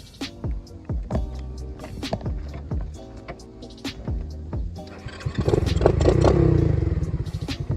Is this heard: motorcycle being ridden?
yes